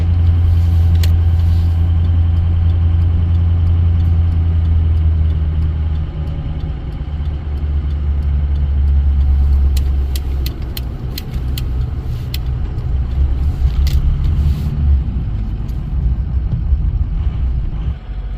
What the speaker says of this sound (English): We've driven the 1 block to go get Dad.